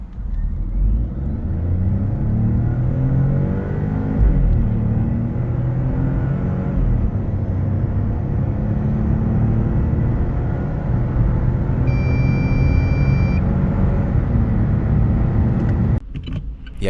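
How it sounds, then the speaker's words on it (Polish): A Fiat Grande Panda 1.2 with 110 hp pulls away hard from standstill at the lights, its engine rumble loud and steady throughout as it builds speed, with brief wheelspin for traction, ending in a sharp thump near the end. "auto walczy nieco z trakcją z miejsca"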